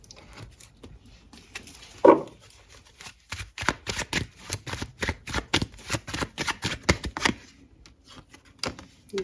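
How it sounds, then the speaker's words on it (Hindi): A deck of tarot cards is shuffled close by, with a dense, rapid burst of riffling flicks that comes in quick rhythmic waves for several seconds and follows a few quieter handling sounds. "कुछ कार्ड्स मैं और निकालूंगी"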